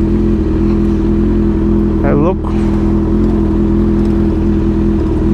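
Honda CB 1000R motorcycle held at a steady high-rpm drone near the rev limiter in a city centre, loud and close, with a brief voice cutting in partway through.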